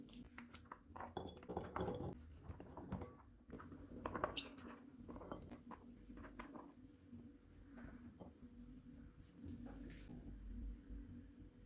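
Lobia chana chaat spooned from a pan into a serving dish: faint, soft clinks and light scrapes of a spoon against the dish, low in level over a quiet room background.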